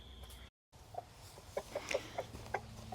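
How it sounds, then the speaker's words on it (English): A rooster named Moustache, handed a cob of corn, gives a run of short, rhythmic clucking calls to draw his hens over, the calls growing more frequent and close by against a quiet farmyard background. "the first thing he does is call his girls over so they can share it with him"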